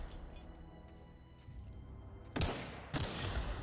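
Spacer's Choice weapon gunfire in the video game The Outer Worlds: after a quiet stretch, two sharp, loud bursts of shots crack out close together, each trailing into a noisy ringing tail.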